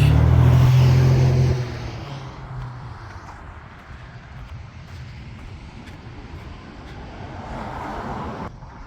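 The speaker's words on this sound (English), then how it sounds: "Engine's back in, it runs, drives." A Volkswagen Beetle with its engine freshly reinstalled runs and drives, a loud low engine note at the start easing into a steadier, quieter road rumble, with a slight rise near the end.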